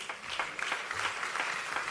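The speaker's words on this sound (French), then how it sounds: "on applaudit très fort" An audience applauds at a startup pitch competition semifinal, a steady wash of clapping from many hands throughout, moderately loud with no speech.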